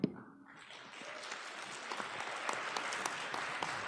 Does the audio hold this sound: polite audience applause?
yes